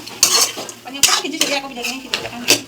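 A spoon scrapes and knocks around a pot of curry with chopped tomatoes and green chillies for an Assamese meal. Several sharp metallic clatters come through a faint sizzle, close and fairly loud.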